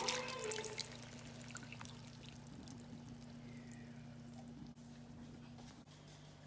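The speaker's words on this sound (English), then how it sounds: "Now I'm going to get my can of coconut milk and add it." Canned coconut milk being poured into a cooking pot for turkey wing pelau, a soft, quiet glugging stream that starts a little stronger and tapers to a faint trickle under a low kitchen hum.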